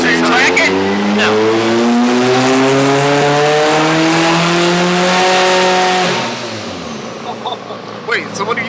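A 540HP big-turbo Mazda RX7 with a rotary engine holds a loud, steady high-pitched drone with rising harmonic tones. The engine then drops away after about six seconds, and voices talk briefly near the end.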